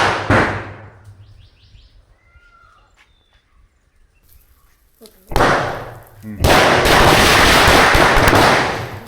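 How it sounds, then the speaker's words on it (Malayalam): Leftover palm-leaf firecrackers from a Vishu celebration burst outdoors, first quietly, then two sharp, loud cracks followed by a sustained crackling roar, with people talking and exclaiming nearby. "പടക്കം പൊട്ടുക ഓരോന്നോരോന്നായിട്ട്"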